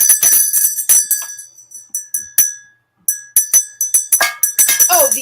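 A cowbell rung by a baseball fan during an NLCS Game 5, Phillies versus Padres, giving bright metallic clanks in quick bursts with a short pause, loud and close.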